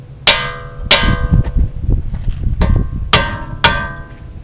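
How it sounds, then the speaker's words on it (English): Hammer blows on a steel tie rod end under a 2015 Jeep Grand Cherokee, five sharp metallic clangs spaced unevenly, close and loud, each ringing briefly over a low background rumble. "you can hit it with a hammer right here and get that to drop out there"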